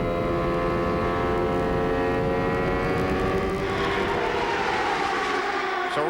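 A 1994 CART IndyCar engine, Rahal's car at Phoenix, holds a loud, continuous high-pitched scream from start to finish, with the pitch shifting partway through as the car passes.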